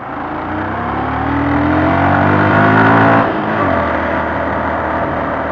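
A car engine revs as it drives up a hill on the Gold Coast. The pitch climbs steadily and loudly, drops at a gear change, then settles into a steady drive.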